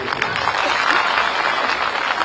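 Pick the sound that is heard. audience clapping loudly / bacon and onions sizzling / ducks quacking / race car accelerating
audience clapping loudly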